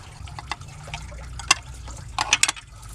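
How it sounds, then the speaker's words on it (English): Engine coolant drains from a high-mileage Honda engine into a catch container, heard close as irregular trickling, splashing bursts and drips, louder toward the end, with no talk. "it will pouring down like crazy, so your container cannot catch every single drop of the water"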